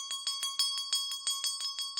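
An antique school bell shaken by hand, ringing in a quick steady series of about a dozen bright metallic strikes, close and clear with no talk over it.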